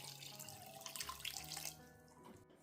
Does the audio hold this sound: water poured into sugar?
yes